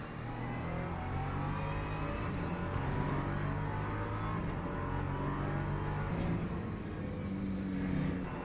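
An LMP2 prototype race car's engine drones steadily at Bahrain's circuit, a loud, continuous roar with rising revs and other cars blending in behind it.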